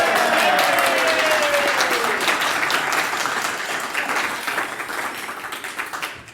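A live audience at a speedrunning event applauds steadily, a dense wash of clapping that starts loud and gradually thins and fades over several seconds.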